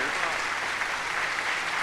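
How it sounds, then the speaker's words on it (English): Sustained clapping from a standing crowd greeting Kentucky Governor Andy Beshear at a Kentucky Bourbon Hall of Fame induction ceremony, an even, loud wash of applause with a hint of voices mixed in. "The crowd erupts in a standing ovation."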